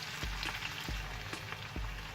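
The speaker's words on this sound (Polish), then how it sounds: "I smażę dosłownie jeszcze minutkę." Eggs fry in butter in a pan with steady, fine crackling sizzle, broken by a few soft knocks at regular moments; no voices.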